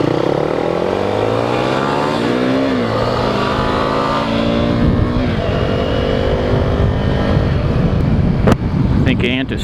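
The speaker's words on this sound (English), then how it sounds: "I think Ant is trying to race me. The single cylinder battle of death" Two single-cylinder motorcycles race side by side, engines revving up and holding a steady, buzzing drone close by, with a short bump near the end and a voice speaking over the engine noise.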